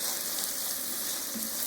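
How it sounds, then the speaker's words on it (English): Crushed garlic sautés in a pan with bacon fat and onions for a beef and Guinness stew, giving a steady, close, dense frying hiss that runs unbroken throughout. "Next I'm going to throw in my crushed garlic and saute for about a minute."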